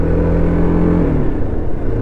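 A motorcycle engine revs steadily at the start of a ride to Kumbhe Waterfall, a loud, close rumbling drone whose pitch dips partway through, with no talking.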